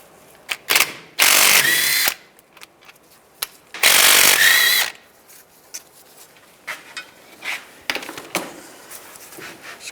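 Two bursts of a power tool, likely a 13mm socket on an impact driver or ratchet, loosening brake caliper bolts on a 2005-15 Nissan Xterra, each whir lasting about a second, close up, with light clicks and handling noises between.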